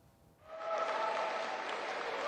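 Citizens welcoming the eight-member Expo inspection team at Busan Station in a steady wash of crowd applause that swells in after a quiet start and holds loud and sustained.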